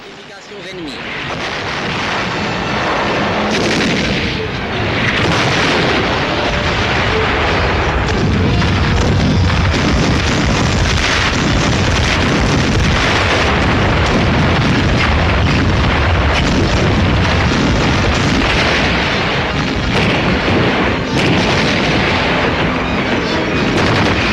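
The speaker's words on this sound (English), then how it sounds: "The guns of the British, American, and French navies bombard the enemy fortifications without respite." British, American and French naval guns bombard coastal fortifications in a dense, continuous roar of booming blasts, heavy and loud throughout, with a narrator's voice running over it.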